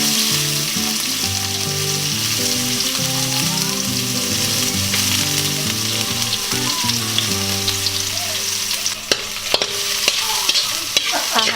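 Onion dropped onto browned garlic in a pan for Japanese chicken curry, sizzling steadily and loudly up close, with stirring clatter toward the end and a melodic music bed playing underneath.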